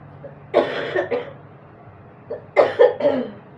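Two bursts of coughing from a woman with a cold, each a quick pair of harsh coughs, close to the mic with quiet gaps between.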